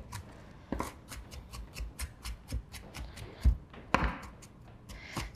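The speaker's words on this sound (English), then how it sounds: "Remember to watch those fingers as we're chopping." A knife chops steadily on a cutting board, a dozen or so quick, crisp taps in an even rhythm, close up and moderately quiet.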